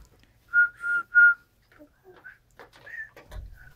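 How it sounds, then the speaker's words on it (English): A six-month-old baby makes three short whistle-like tones in a row, followed by softer squeaks and babbling, close and clear in a quiet room. "Can you whistle for us?"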